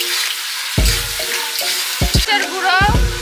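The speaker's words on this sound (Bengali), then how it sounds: "গাজর ভাজবো, দিয়ে দিচ্ছি গাজর।" Carrots frying in hot oil and ghee crackle and sizzle steadily, with several sharp clatters of utensils striking the pan and a brief, faint rise of voice in the background.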